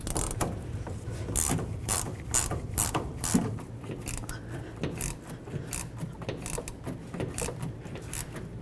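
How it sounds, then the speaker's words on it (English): Wrench working a rear shock absorber nut loose on a 2007–13 Toyota Tundra, a rapid run of close metallic ratcheting clicks and mechanical rattles going on steadily without talk. "We're going to finish removing this nut and then remove the shock."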